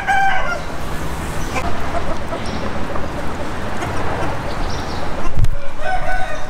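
A rooster crows on a small farm in a riverside slum in Bangkok, its calls loud and near over a busy noisy outdoor background, with clucking and other fowl sounds mixed in.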